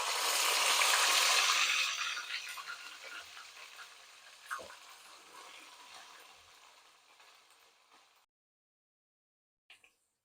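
A loud burst of sizzling as wet greens hit hot tempering oil, the hiss gradually fading over several seconds, then a brief clink before silence.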